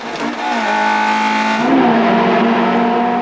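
Loud, close Heico Volvo S40 race car engine revving hard on a track, a sustained high whine that briefly drops in pitch during a quick gear change and then climbs again.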